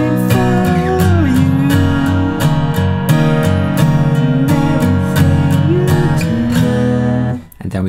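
Acoustic guitar strums the chords of a song in steady, even downstrokes, loud and close, with sustained ringing strings and a short fade at the end.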